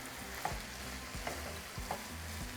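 Ground beef and potatoes stirred in a pan for taquito filling, a spoon scraping in slow repeated strokes with a few sharper clinks over a soft, steady frying sizzle, close and quiet.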